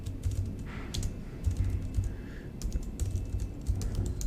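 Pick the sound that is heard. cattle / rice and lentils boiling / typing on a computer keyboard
typing on a computer keyboard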